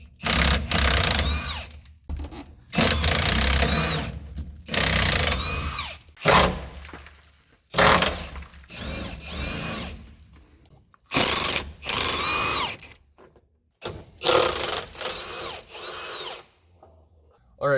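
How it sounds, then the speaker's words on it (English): An impact wrench rattles loose 15 mm crossmember bolts on a 1994–2002 Dodge Ram Cummins, loud bursts of hammering repeating one after another with short pauses between them and a bit of talk in the gaps. "Just put an impact in there and hold it from the other side."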